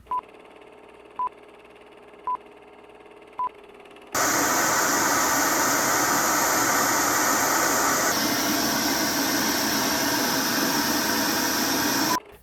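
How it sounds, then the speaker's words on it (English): Four short, evenly spaced beeps, then a loud, steady broadband hiss of pink noise from a Marshall Emberton speaker that runs unbroken for about eight seconds. "let's check out the pink noise test."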